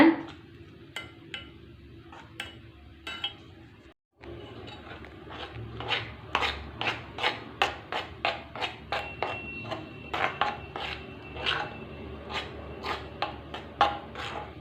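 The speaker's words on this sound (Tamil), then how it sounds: "இந்த பவுட்ரு வந்து இந்த லிக்யூடு மாதிரி சேர்க்கும் போது எப்போயுமே வந்து மிக்ஸ் ஆகிறதுக்கு கொஞ்சம் டைம் எடுக்கும் பொறுமையாக கலந்து விடுங்க" Hair dye powder stirred into liquid in a bowl: a quiet scraping stretch, a brief gap, then a run of sharp clicking and tapping strokes against the bowl, close up with no talking.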